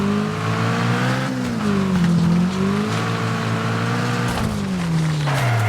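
Race cars in the Wreckfest racing game roar continuously, the lead engine rising and falling through gear changes with others droning close behind, loud and steady with no talk.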